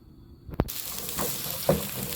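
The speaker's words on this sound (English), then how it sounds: "I'll fry the onion" Onion frying in a pan for simple mixed vegetables gives a soft, steady sizzle, with a sharp clatter early on and a brief scrape near the end, moderately quiet and with no talking.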